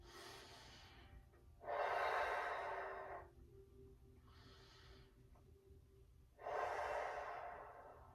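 Slow, deep breaths during a seated stretching routine for seniors, three long airy exhalations rising and fading in a steady rhythm, close and fairly soft over a quiet background with no talking.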